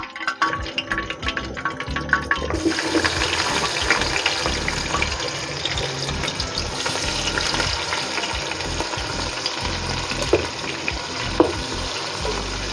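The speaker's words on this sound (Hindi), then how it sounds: "तो ये देखिए यहाँ हमारी प्याज फ्राई होना शुरू हो गई है" Cut onions frying in oil for a Sindhi biryani, a dense, loud, close sizzle with stirring scrapes throughout, after a brief quieter start.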